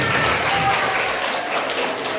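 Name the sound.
students applauding in a classroom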